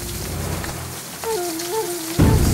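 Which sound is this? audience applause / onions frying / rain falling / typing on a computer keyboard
rain falling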